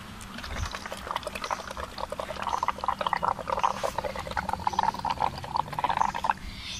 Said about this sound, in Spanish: vamos a soplar con mucha fuerza para que veamos qué resultado nos da